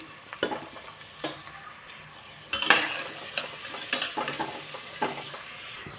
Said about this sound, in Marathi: कांद्याला छान सोनेरी रंग येईपर्यंत परतून घेते मी